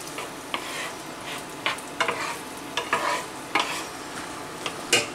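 Pancetta and peas frying in a pan for pasta, a soft steady sizzle broken by repeated scraping stirs of a utensil against the pan, fairly quiet and close, no talk.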